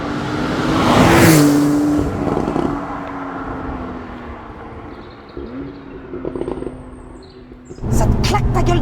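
Porsche 911 991.2 Targa 4 GTS engine revving hard in a loud burst, then settling into a steady drone before surging again near the end, with passing road noise and snatches of voices.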